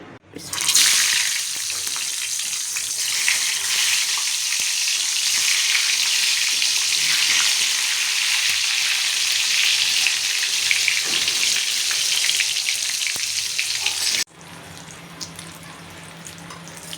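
Brinjal slices seasoned with salt and turmeric fry in a pan, giving a loud, close, continuous hissing sizzle that holds for about fourteen seconds, then cuts down sharply to a quieter background.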